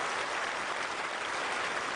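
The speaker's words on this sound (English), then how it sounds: "he deserves all the applause" Cricket crowd at a Test match in England applauding Kumar Sangakkara's century, a dense, steady wash of clapping from many hands, distant and unbroken, with no voices over it.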